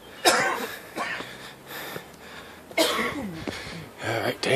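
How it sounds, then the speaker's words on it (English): A man trailing behind on a hike coughs repeatedly in harsh, raspy bursts, several separate coughing fits spaced over a few seconds, close and fairly loud outdoors. "pulling up the rear with the smoker's cough"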